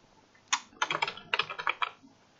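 Keys tapped on a computer keyboard while entering a new password, a quick burst of about a dozen crisp clicks in two short runs, close and clear with no talking.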